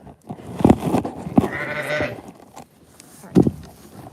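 Baby sheep bleating on a ranch on a snowy day, several close, wavering cries in short bursts with pauses between them.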